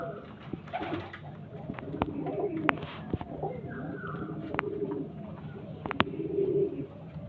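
Pigeons coo repeatedly at a pigeon sale, low rolling calls under a voice, with scattered clicks and handling noises nearby.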